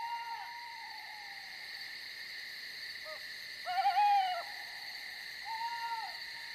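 An owl gives short, rising calls in a nature setting, with one stronger burst in the middle and softer calls at the start and end, over a steady high insect drone.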